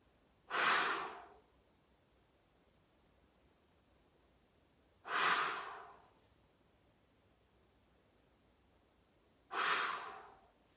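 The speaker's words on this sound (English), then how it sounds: "I'd like it to be a pretty good whoosh of air through the mouth." Three forceful breaths blown out through the mouth, each a strong whoosh of air, spaced several seconds apart with quiet in between.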